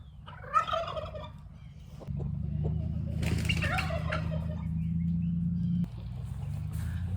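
Bursts of gobbling hen calls, fairly close, over a steady low rumble of background noise.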